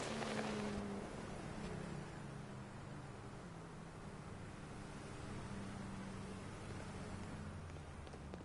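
A damaged boat engine in Grand Theft Auto V drones as a continuous rough, noisy rumble, with a sharper burst at the start, then a steady mid-level roar with no talk.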